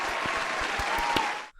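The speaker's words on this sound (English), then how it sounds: "Let's give her a round of applause" A round of applause from a crowd, brisk and full, running at a steady level before cutting off abruptly at the end.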